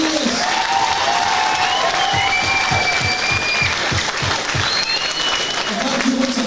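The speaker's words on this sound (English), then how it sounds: "One more time, ladies and gentlemen, a big round of applause for Raymond." Sustained applause from a boxing show audience, loud and dense throughout, with a few voices calling out over the clapping.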